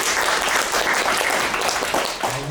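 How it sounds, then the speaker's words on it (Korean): Classroom audience applauding after a student team's presentation in a university HCI lecture, a dense, steady wash of many hands clapping, fairly close and loud, continuing evenly without talk. "박수 한번 쳐주세요."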